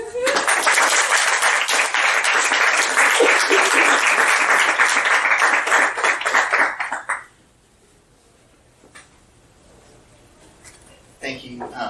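An audience applauds loudly and steadily for about seven seconds to welcome the author at a literary reading, then the room falls quiet.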